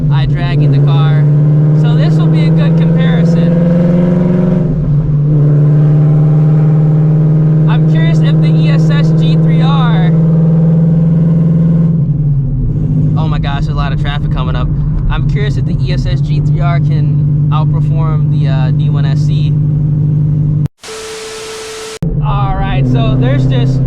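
A supercharged Shelby GT350 with an ESS G3R kit pulls hard, its loud engine drone climbing steadily with layered whine across repeated acceleration runs, heavy and close throughout, with a brief dropout near the end and people talking over it.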